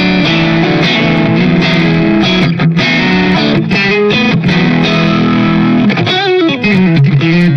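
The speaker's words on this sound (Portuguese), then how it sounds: "Agora eu vou dar mais uma carne para minha guitarra, usando este pedal aqui, o Mint of Tones." Overdriven electric guitar boosted by a Mint of Tones pedal, playing continuous saturated chords and bends at steady loud level with sustained tone throughout.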